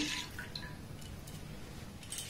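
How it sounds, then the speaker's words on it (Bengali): Liquid milk poured into a cooking pot while making sugar-free monda sweets, a soft, quiet trickle and splash lasting a couple of seconds with no talking. "আরো 1 কাপ লিকুইড দুধ আমি এখানে অ্যাড করলাম।"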